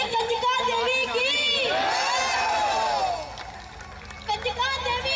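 Worshippers at the Kanjika Devi temple in Dodwan village, Dinanagar, Punjab, cheer and chant a jaikara together during a jagran, a loud, dense crowd roar that swells and fades over several seconds.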